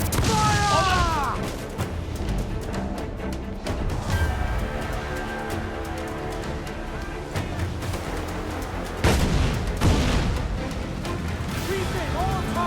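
Cannon fire from sailing warships in Assassin's Creed IV Black Flag, heavy booms going off repeatedly over a clamor of shouted crew orders, with a loud burst near the middle and continuous battle noise throughout.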